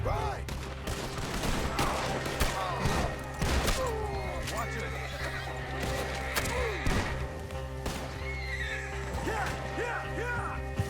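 Horses whinny and neigh repeatedly in the open-world western game Red Dead Redemption 2, mixed with bursts of gunfire and hoofbeats in a busy, chaotic scene.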